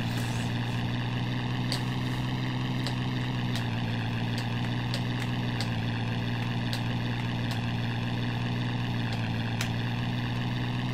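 The engine of a WWI biplane in the Amiga flight game Knights of the Sky drones in a steady, unbroken buzzing hum. Faint clicks tick over it now and then.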